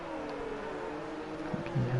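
An F2 racing car on the Singapore track in a racing video game drones steadily at low volume, with a commentator's voice over the sustained engine tone.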